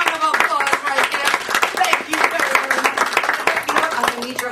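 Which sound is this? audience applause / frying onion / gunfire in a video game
audience applause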